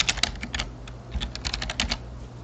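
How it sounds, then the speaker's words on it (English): Keys clatter on a computer keyboard as text is entered into a code editor, a close, quick run of uneven clicks in short bursts with brief pauses between them. "And I'm going to type it in here."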